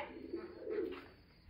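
A pigeon cooing softly at a zoo, a low throaty call rolling twice in quick succession, somewhat distant and alone.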